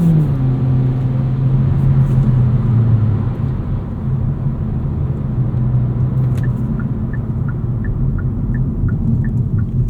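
A 2024 Kia Forte GT with a 1.6-litre turbo engine and dual-clutch transmission cruising casually, heard from inside as a steady, fairly quiet engine drone and road rumble, with a faint repeating chime near the end.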